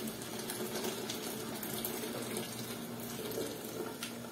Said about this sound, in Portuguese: A gente continua fervendo a água.